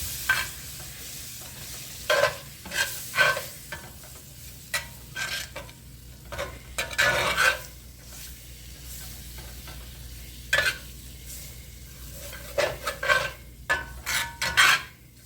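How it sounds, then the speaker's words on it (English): Gravy base in a pan for Salisbury steak being stirred, with repeated scraping, rasping strokes of the spoon over a soft sizzle, close and moderately loud, coming in irregular bursts. "I'm going to stir it up."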